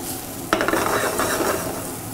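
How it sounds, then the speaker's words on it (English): Squash, shallots and fresh corn hit a hot pan, starting a sudden burst of sizzling with stirring scrapes and utensil clinks that settles into a steady close frying hiss. "then we can add some of our fresh corn. and saute that a little bit."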